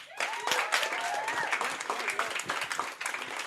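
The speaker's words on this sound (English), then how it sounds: "Round of applause for your BAME officer for 2015 and 16" Audience applause at a university students' union winter election results announcement, a roomful of hands clapping steadily with a few whoops and cheers on top, sustained throughout at moderate loudness.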